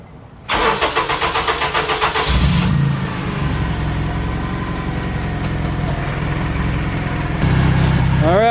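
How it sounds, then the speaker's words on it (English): A car engine cranks briefly and catches, then runs at a steady elevated idle from a sticking throttle body, a loud close drone that rises slightly near the end. "I was right about the high idle, bro. It is that throttle body sticking."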